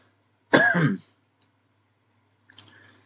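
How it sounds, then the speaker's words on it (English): One sharp, close cough burst, followed after a pause by a quieter, shorter cough or throat sound. "I am still coughing a lot"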